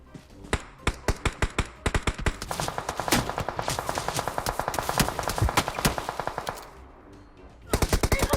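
Loud, close rapid-fire bursts of automatic gunfire from the mobile battle-royale game PUBG Mobile, rattling almost continuously, pausing briefly, then opening up again.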